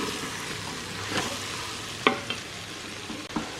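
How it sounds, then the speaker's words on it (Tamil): Ground black pepper being stirred into vegetable biryani in an Instant Pot, a continuous sizzle with a few sharp spoon scrapes and taps against the pot, no voices. "அதை கிண்டி விடுங்க."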